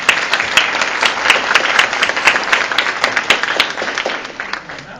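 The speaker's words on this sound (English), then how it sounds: "You guys would all welcome me and applaud me and welcome me," An audience applauds to welcome a presenter at a lecture on Jack the Ripper, loud close clapping with distinct sharp individual claps that thins slightly toward the end.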